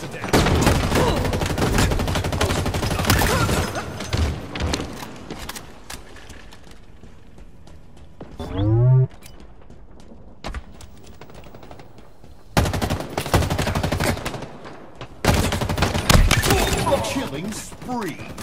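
Halo Infinite Slayer match on the Aquarius map: dense bursts of automatic weapon fire crackle loudly in the opening seconds, then drop away for a quieter stretch before renewed rapid volleys. A brief rising electronic tone sounds between the bursts.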